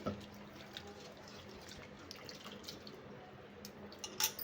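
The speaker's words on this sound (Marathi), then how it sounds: "याला स्वच्छ धुवून घेऊया कारण पोह्यावर खूप घाण असते" Water trickles and drips nearby while flattened rice is rinsed in it, a soft continuous wet splashing with a few louder drips.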